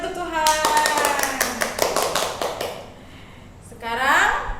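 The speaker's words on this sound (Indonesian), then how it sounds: "Mari kita berikan tepuk tangan untuk Tuhan." Children in an online Sunday school service clapping their hands in a quick, even rhythm, with a voice singing or speaking over the claps and a brief vocal passage closing it.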